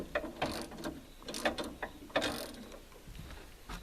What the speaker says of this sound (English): get your 9/16, and you got to either loosen or tighten. So we're going to tighten.